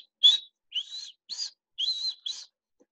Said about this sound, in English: You'll often hear the bird calling.